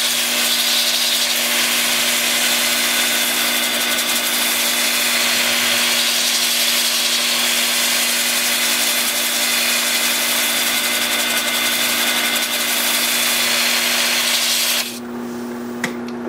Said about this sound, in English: And then with the lathe spinning forward at about 350 amps,